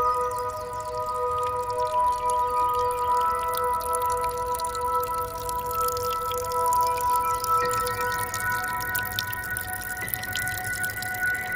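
Water from a seep trickles into Pine Run, a shaded tributary stream of the Clear Fork Mohican River, with a continuous close drip and gurgle and steady tonal ringing notes running throughout.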